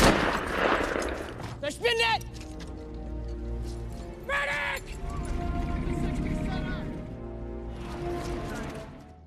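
Gunfire from a war film battle scene, loud rattling bursts layered over a dense rumbling soundtrack, with shouting voices and what sounds like horses whinnying cutting through at intervals.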